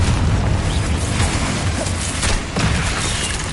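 Blasting spell explosions go off in the Hogwarts Legacy video game, a loud, continuous barrage of booms and crackling bursts, with sharper hits around the middle and no voices heard.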